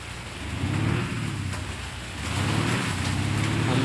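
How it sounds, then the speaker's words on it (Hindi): Heavy rain in a bus simulator video game, a continuous broadband hiss of downpour with a low rumble swelling and easing, no voices over it. "इतनी बारिश हो रही है"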